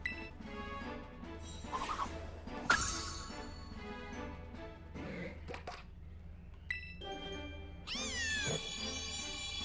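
Litten, the Fire Cat Pokémon in Pokémon Scarlet, lets out several meowing cat cries, some strained and caterwauling, over soft game music, ending in a bright electronic flourish, with no talk.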